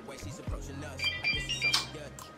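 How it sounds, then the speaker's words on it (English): A timer alarm goes off during a nighttime skincare routine, with a quick series of high electronic beeps mixed in with a person talking nearby. "the timer stopped"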